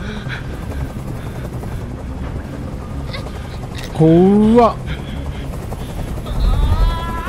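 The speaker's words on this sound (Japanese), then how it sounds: "あのヘリコプターをどこかにやってくれ。" A helicopter hovers with a steady low rotor drone under tense dialogue in the video game Detroit: Become Human. A voice speaks briefly, and a sharp, whining vocal-like sound rises near the middle.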